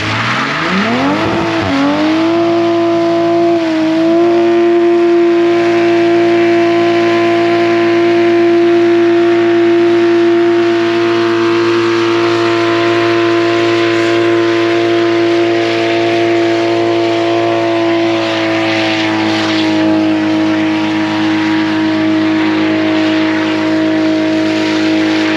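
A widebody Mk5 Toyota Supra holds a loud, sustained high-revving engine note through a burnout and donuts, pitch sweeping up early then droning steadily for the whole stretch, with tyre noise beneath and no talking.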